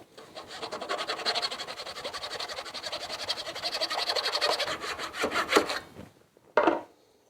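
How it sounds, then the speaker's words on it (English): A crosscut hand saw works through plywood in quick, even back-and-forth strokes, close and fairly loud, then slows and stops, followed by a short final scrape. "Using a crosscut saw on plywood is not as easy and as good as using it on real wood."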